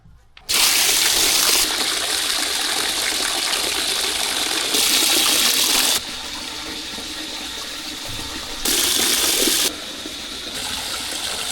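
Water gushing steadily into a bucket at a farm barn, loud and close, a continuous rushing pour whose tone shifts in several abrupt steps as the flow changes.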